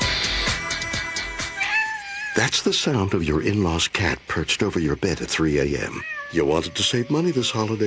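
A cat meows in drawn-out, wavering cries, then a voice starts talking over the last of the yowling.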